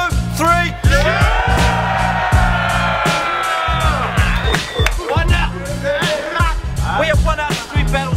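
A loud crowd cheers and shouts together, with whoops and rowdy yelling that rises and falls over several seconds.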